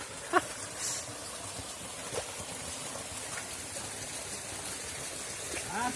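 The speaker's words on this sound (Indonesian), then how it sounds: "Ini air terjunnya kecil ya" A small waterfall in a canyon gives a steady, soft wash of falling water throughout, with a few faint brief voices over it.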